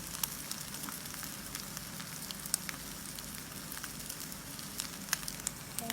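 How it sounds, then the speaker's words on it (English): Shami kababs fry in oil over medium heat, giving a soft, continuous sizzle with scattered small pops and crackles, quiet and close with no talking. "For the heat, you will just fry it with the medium heat only."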